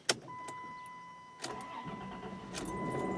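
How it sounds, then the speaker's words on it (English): A car starter motor cranks in a few short, loud bursts over about three seconds, with a steady engine hum running underneath. "Let's listen to this starter."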